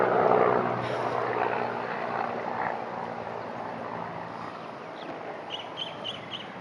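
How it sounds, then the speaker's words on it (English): A helicopter drones faintly overhead on a Maui windsurfing beach, a low steady rotor rumble with wind noise and a few chirping birds near the end. "Should wait for the helicopter."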